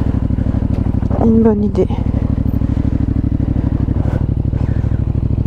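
A motorcycle on a mountain crest road idles with a steady low pulsing thrum, close by, as a rider talks over it and the engine briefly revs while pulling the bike out of gravel.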